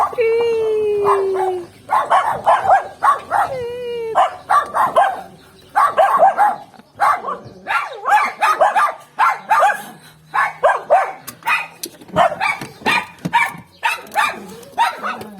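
Dogs bark and yip repeatedly nearby, overlapping with excited voices talking and greeting, the barking bursts coming in quick irregular clusters.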